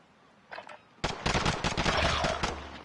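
Rapid gunfire bursts from a multiplayer shooter video game, a brief faint burst followed by a loud sustained rattle of automatic fire, with no voice over it.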